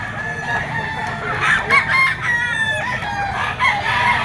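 A Gilmore Sweater gamefowl rooster crows several times in drawn-out, strained calls over steady low background noise, fairly close and loud.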